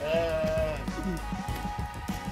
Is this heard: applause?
no